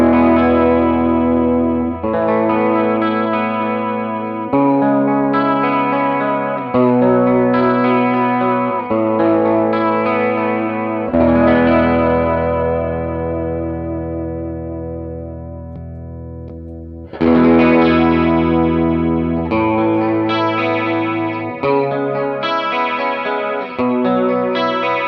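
An electric instrument runs through a Chase Bliss Audio Warped Vinyl mkii effects pedal, sustained chords with a warbling, chorus-like wobble and slight grit, changing every couple of seconds, loud and continuous with no talking.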